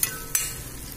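Shallots, garlic and curry leaves stirred in hot oil, with two sharp scraping strokes over a steady soft sizzle close by.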